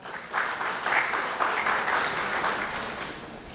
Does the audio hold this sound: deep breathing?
no